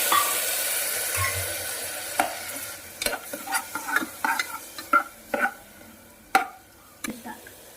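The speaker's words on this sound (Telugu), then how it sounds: "ఇప్పుడు పెరుగు కూడా వేసి మిక్స్ చేసుకోవాలి." Yogurt is stirred into onions frying in a pot for chicken biryani, with a quiet sizzle underneath and a series of sharp spoon scrapes and clinks against the pot at an uneven rhythm.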